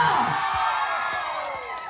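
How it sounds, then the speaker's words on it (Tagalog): A rally crowd in Barangay Balite cheering, whooping and shouting together, a loud sustained roar of many voices close by throughout. "Pinakamalakas na palakpakan sigawan para sa Barangay Balite!"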